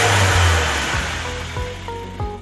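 Honda car engine running as the throttle is snapped open, a loud rev rising then falling, followed by several short sharp throttle blips near the mic.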